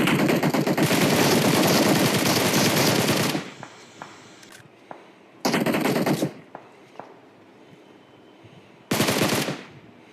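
Automatic weapon fire in PUBG Mobile, a mobile battle royale shooter: a long loud sustained burst of rapid gunshots, then two shorter bursts with a few scattered single shots between, close and dominant with no talk.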